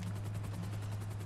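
A helicopter in the video game GTA V Online flies with a steady, loud, low rotor drone and an even pulsing beat, heard alone throughout.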